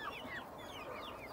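Chickens cluck faintly in a garden in the cool of evening, a few soft calls at a distance over quiet ambient noise.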